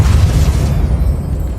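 A Depulso spell is cast in the video game Hogwarts Legacy: a heavy, booming burst that rumbles loudly and then fades over a second or so.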